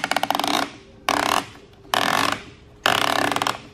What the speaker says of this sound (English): you turn the knob